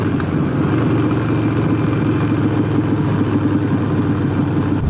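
A Harley-Davidson motorcycle engine rumbles on a road ride, a loud, steady low drone with wind noise that holds evenly throughout.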